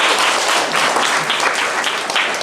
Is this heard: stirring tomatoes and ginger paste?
no